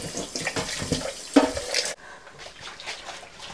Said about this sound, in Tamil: நிறைய தண்ணி விடணும், நல்லா ஏன்னா நல்லா வேகணும் இந்த மசாலா முதல்ல